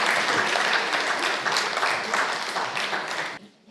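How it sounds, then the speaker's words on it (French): A studio audience at a Paris magazine launch event claps in a full, even burst of applause that holds steady and then fades out quickly at the end. "Applaudissez."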